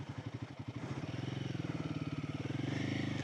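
A Royal Enfield Himalayan 450 motorcycle rides through soft sand, its single-cylinder engine thumping in a steady pulsing rhythm that builds and grows louder, heard close from the rider's position.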